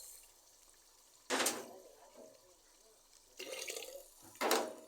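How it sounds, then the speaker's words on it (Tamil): Dissolved tamarind water poured into a simmering fish curry, heard as short splashy liquid pours in three separate bursts, close and moderately loud over quiet kitchen background. "இப்போ இதில் புளியை ஊற்றிக்கணும்."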